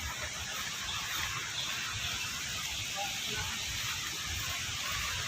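River water rushing strongly below the Hadagada dam, a constant hissing roar that stays loud and even, with no clear voices.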